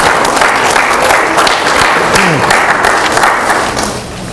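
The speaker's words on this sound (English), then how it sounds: "One more applause, please." An audience at a summer transportation institute event gives a loud round of applause, thick crowd clapping that holds steady and then tapers slightly at the end.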